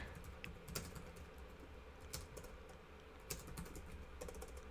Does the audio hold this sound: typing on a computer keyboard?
yes